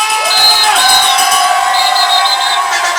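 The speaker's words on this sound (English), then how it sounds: "Make some noise for Polite Mosko!" A crowd cheers and whoops loudly, excited shouts and high voices overlapping in a sustained burst of noise.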